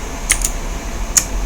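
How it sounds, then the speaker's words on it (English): A few crisp keystrokes click on a computer keyboard, close up and quiet, in short bursts against a steady background hiss. "Just press one keystroke"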